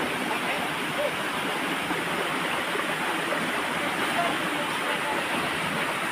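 Steady broadband rush of water flowing through an irrigation canal on a farm, a continuous even wash running the whole time with no talk.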